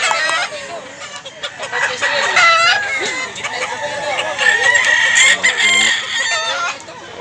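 Roosters crow repeatedly and hens cluck in a busy yard of fighting cocks in Mantalungon, Cebu, with someone talking steadily over the birds.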